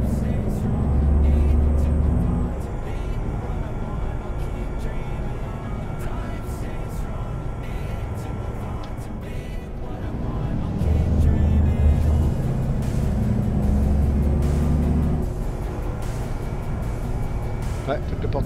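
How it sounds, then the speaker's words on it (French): A truck in Euro Truck Simulator 2 drones along with a low engine hum that swells and fades as it accelerates, making an odd noise, a steady loud rumble throughout with someone talking over it. "Peut-être aller au garage mon camion parce qu'il fait un bruit bizarre."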